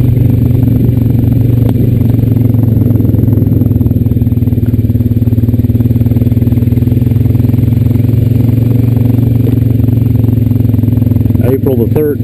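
A Honda Rancher 420AT ATV rides along a farm trail, its mid-pitched engine humming loud and steady throughout with light clatter and a brief burst of noise near the end.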